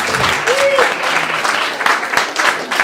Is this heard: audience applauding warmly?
yes